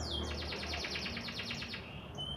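Canary singing in a rapid run of repeated chirps, a fast even trill of bright notes lasting about two seconds, fairly faint against steady background hiss.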